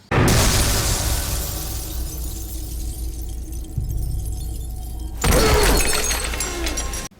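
A loud crash of a window shattering in a film fight scene, followed by a rumbling impact and a second burst of breaking glass and debris.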